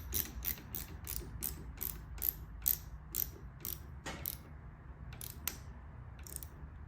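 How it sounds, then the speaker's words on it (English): A ratchet works the handlebar bolts on a 2009 Police Special motorcycle with a run of quick, crisp clicks at a steady rhythm, a pause, then a few more, close and fairly quiet. "I will then draw each bolt out individually and put Loctite on it."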